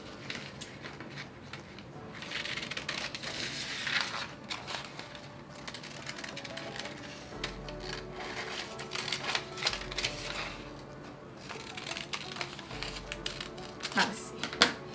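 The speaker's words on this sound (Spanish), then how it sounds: "Entonces prosigo cortando mi molde." Paper sewing pattern for an off-the-shoulder empire-waist dress being cut with scissors, a steady stream of close crisp snips and paper rustles running throughout.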